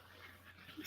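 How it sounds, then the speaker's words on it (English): A small chihuahua pants quickly and lets out a faint whimper at close range, soft and breathy over a quiet indoor background. "She has 4 chihuahuas."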